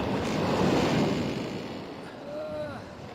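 Storm waves at sea, a rough surging wash of surf with wind noise, swelling loudly then easing off over a few seconds.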